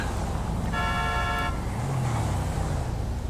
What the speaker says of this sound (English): Was that you or them honking?